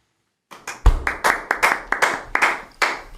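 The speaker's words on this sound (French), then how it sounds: "La première fois qu'on applaudit dans cette émission," A French television studio audience claps in sharp, separate bursts that start from silence and come one after another at a lively, close, loud level.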